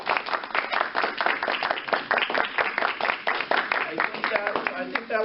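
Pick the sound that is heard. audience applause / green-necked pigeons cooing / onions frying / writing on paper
audience applause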